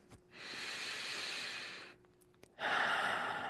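A slow, deep inhale drawn through the nose during a guided affirmation and breathing exercise, a long airy hiss lasting over a second, then a brief pause and a second stronger breath sound, close and quiet with no talking.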